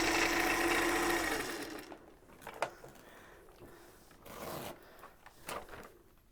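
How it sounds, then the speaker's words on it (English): A sewing machine stitches in a fast whirring burst at the start, then stops and leaves quieter scattered handling and rustling sounds with a few short sharp taps. "We can talk about other things while Jen sews"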